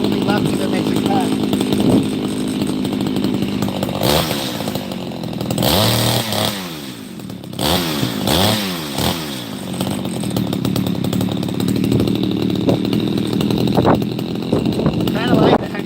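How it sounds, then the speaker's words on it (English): A Craftsman chainsaw with a badly worn chain runs loudly up close, its engine revving up and dropping back in repeated surges while people talk over it. "Craftsman actually doesn't sound so bad"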